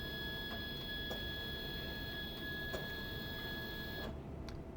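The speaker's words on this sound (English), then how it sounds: "the printer will now perform a simple label calibration with the new values you established for the sensor" A Brady i7500 industrial label printer runs a label calibration: a steady mechanical whir with a thin sustained tone and a few soft ticks, ending abruptly near the end.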